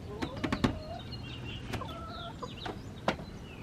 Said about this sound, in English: Still got chickens in here.